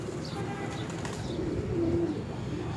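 On a Multan rooftop, high-flying pigeons coo faintly beneath a busy ambient background, with a soft wing flutter and a single drawn-out low coo standing out late in the moment.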